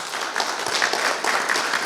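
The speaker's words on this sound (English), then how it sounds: "Give them a round of applause." An audience applauds a women in motorsports engineering panel at an automobile museum, a steady even burst of many hands clapping at moderate volume, with no talk over it.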